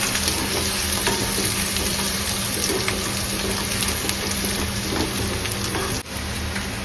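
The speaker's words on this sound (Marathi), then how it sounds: "कांदा व्यवस्थित परतून घ्यायचा व्यवस्थित लालसर होऊन द्यायचा आणि हळद टाकायची व्यवस्थित परतून घ्यायचं" Onion sautés in a pan with turmeric, a dense continuous sizzle close by with faint stirring clicks throughout, briefly dipping near the end.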